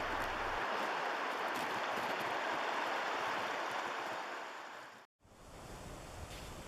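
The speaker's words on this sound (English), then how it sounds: "as we're wading in the stream, we see water surges, which look like ocean waves, flowing downstream" Stream water surges and rushes at Great Sand Dunes, a loud, steady, close wash of noise like surf that cuts out briefly near the end before resuming.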